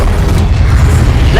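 An Expelliarmus spell goes off in Hogwarts Legacy with a short, loud, booming burst amid dense combat noise, heard as a single heavy thump that dominates the brief moment.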